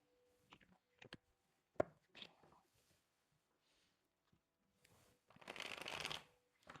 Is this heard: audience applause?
no